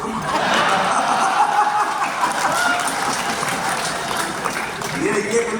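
An audience at an Urdu mushaira poetry gathering in Mysuru claps steadily and loudly, a dense wash of applause with a few scattered voices mixed in.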